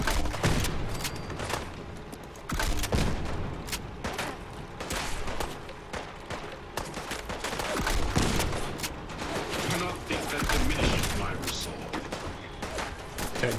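Heavy gunfire in a modded Fallout 4 battle, loud and near, with dense bursts and overlapping shots and booms across the whole stretch, plus intermittent robotic announcements and game chatter.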